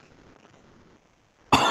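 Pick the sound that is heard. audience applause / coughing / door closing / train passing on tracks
coughing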